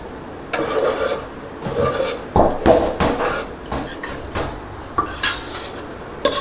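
A spoon scraping and rubbing through karela (bitter gourd) and onion curry in a pan, with irregular clattering strokes against the metal, close and moderately loud, no talk.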